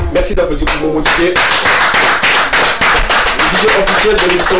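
Studio audience clapping on a TV2 entertainment show set, a sustained burst of dense applause under loud music with speech mixed in.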